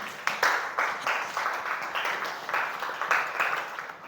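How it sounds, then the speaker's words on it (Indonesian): A classroom audience at a university micro-teaching session claps for a student named Darin, a fairly soft burst of scattered hand claps lasting a few seconds with no talking over it. "Kasih tepuk tangan untuk Darin."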